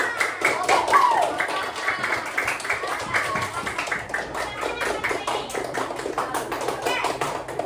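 Schoolchildren in a classroom clap their hands for a group, a loose, busy patter of many close claps lasting several seconds, with voices mixed in.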